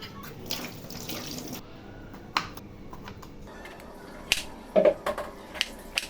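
Tap water runs into a sink while chela fish and a young gourd are washed, a soft uneven splashing broken by a few sharp clicks and knocks of handling, with no talking.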